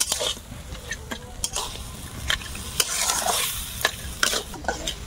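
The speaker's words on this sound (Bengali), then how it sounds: "সব মশলার সঙ্গে চিংড়িটাকে একটু নেড়ে চেড়ে কষিয়ে নেব।" Prawns and spices are stirred and fried in a pan, with a spatula scraping in repeated short strokes over a continuous soft sizzle, close by and without talk.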